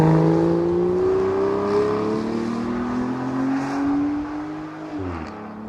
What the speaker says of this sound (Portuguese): vamos para a estrada e vamos perceber como é que é conduzir um Aston Martin Virage